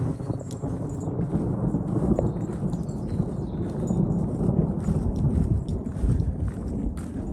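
A thunderstorm with low, rolling thunder rumbling continuously through wind buffeting on the microphone, fairly faint and steady throughout with no voices.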